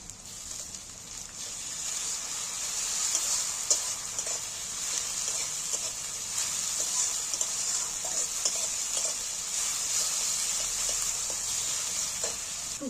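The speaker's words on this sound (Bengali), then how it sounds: "দেখো পেঁয়াজগুলো আমার ভাজা হয়ে গেছে তবে খুব লাল করে ভাজবো না" Onions frying in oil with ginger garlic paste stirred in, a continuous bright sizzle with occasional soft ticks of a spatula, steady and close throughout, no voices.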